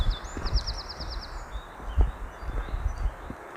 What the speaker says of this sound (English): I hope the wind's not drowning out all the bird song.